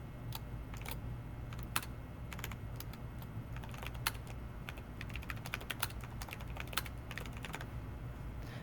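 Fast, steady keystrokes on a computer keyboard while code for first-person movement in Unity is entered, close and clear with irregular clicks and a few sharper taps, no voice.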